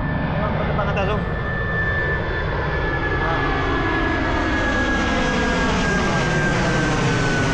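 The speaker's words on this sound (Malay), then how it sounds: "Tengok kapal terbang atas tu." An airplane flying overhead near KLIA airport, a loud continuous roar of jet engines with a steady whining tone, the pitch sliding slowly as the aircraft passes close above, with speech audible beneath it.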